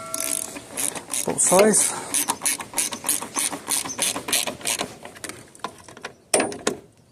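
A hand ratchet clicks in short bursts while tightening the coolant reservoir bolts on a 2005–2010 Volkswagen Jetta, with metallic pawl ticks and clanks up close, someone briefly speaking partway through and a sharp knock near the end.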